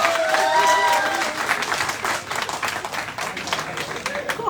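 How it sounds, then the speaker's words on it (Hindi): Crowd at a foundation day celebration applauds a quiz prize winner, loud dense clapping that swells and then thins into scattered claps, with voices mixed in. "जोरदार तालियां।"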